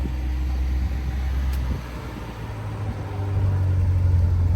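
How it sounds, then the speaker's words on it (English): A Long Beach Red C7 Corvette convertible pulls up with a low, steady engine rumble close by that dips briefly and then grows slightly louder and fuller toward the end, with no talk. "Brian pulling up, and then Long Beach Red C7 Corvette convertible."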